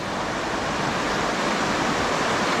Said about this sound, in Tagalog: Napakinggan niya lang ang agos.